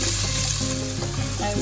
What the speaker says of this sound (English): I will add the green onions and the leek and saute everything together for a few minutes